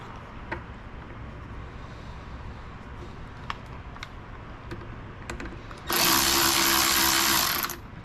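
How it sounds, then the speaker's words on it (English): A power tool driving screws into a Husqvarna chainsaw part runs in one loud steady whir for about two seconds, preceded by faint scattered clicks and taps of handling in a quiet workshop. "So let's start a couple of screws."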